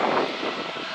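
Airplane engine roar at Manchester Airport, heard as a dense, even droning rumble with a broad hiss, loud and sustained throughout the brief moment with no voices.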